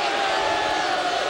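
Basketball arena crowd during a Providence Friars at Pitt Panthers game, a steady loud roar of many voices reacting while play is stopped, continuous without a break.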